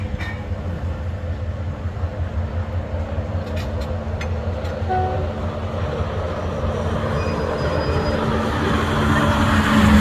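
A train rumbles steadily across the Bridge on the River Kwai in Kanchanaburi, Thailand, its rolling noise growing louder toward the end, with a few faint metallic squeaks.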